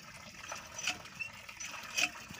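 Water gushes from a solar-powered bore hand pump, making a continuous splashing, trickling rush with small bursts of spatter. It sounds close and fairly steady throughout.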